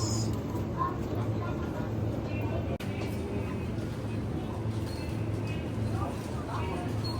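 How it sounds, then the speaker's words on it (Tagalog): Train interior in Japan, bound for Mount Fuji and Kawaguchi, with a steady loud rumble of running noise throughout, plus people talking and background chatter. "Ang ingay nung tren."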